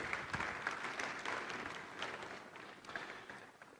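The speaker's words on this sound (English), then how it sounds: "A round of applause, please." Applause from a conference audience at an annual banking meeting as a dignitary is welcomed on stage: steady, dense clapping that fills the hall for several seconds, with no talk over it.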